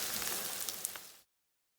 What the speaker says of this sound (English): ready to pour these onions in so I can actually do my sausage and meat in the same pan